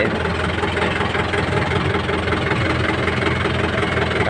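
An idling tractor engine at a vehicle blessing day, close by, a steady low rumbling chug with constant vibration throughout.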